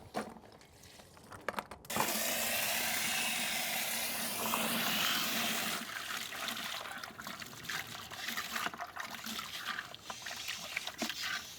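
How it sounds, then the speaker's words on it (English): A garden hose sprays water to flush sand out of a Fluval FX6 canister filter from a 125-gallon aquascape tank, a steady hissing rush of water after a brief start, continuing at close range. "I'm going to get the hose out, dump this on its side, and just spray it clean"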